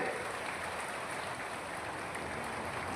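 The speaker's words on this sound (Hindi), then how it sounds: "जोरदार ताली बजा करके" Dense, steady crowd applause fills a political rally in Sendhwa, a continuous roar of many hands clapping at a constant level with no pauses or talk.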